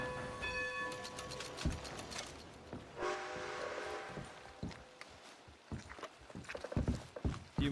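Horse hooves in Red Dead Redemption 2 clop irregularly alongside a train-like rumble and a horn tone, with game sounds layered at a low overall level.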